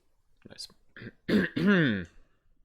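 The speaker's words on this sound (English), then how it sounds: "The guy behind you coughs." A person clears their throat and gives a rough, voiced cough, a short harsh burst up close after a few faint breaths.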